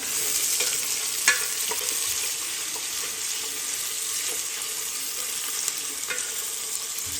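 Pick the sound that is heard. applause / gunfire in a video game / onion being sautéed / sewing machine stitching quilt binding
onion being sautéed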